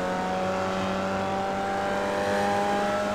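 Formula Vee race car in iRacing at Summit Point, its engine droning steadily and building under throttle after a downshift to third gear, a continuous buzzing tone close and loud with no voices.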